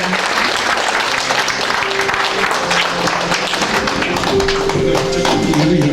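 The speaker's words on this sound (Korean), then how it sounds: "여러분께서 다시 한번 큰 박수로 축하해 주시면 좋을 것 같습니다." Applause at an anniversary ceremony, many hands clapping loudly and steadily, with a thin murmur of voices underneath.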